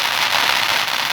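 Consumer fireworks set off outdoors crackle and pop in a dense, continuous burst of rapid snaps, loud and close, with no voices over it.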